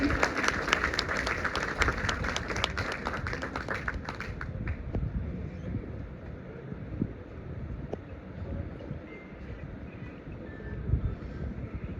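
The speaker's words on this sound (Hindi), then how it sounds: "प्लीज तालियों में कमी नहीं होनी चाहिए।" Audience clapping at a women's business summit in Jodhpur, a broad wash of applause that is strongest at the start and thins after a few seconds into softer, scattered claps and room noise.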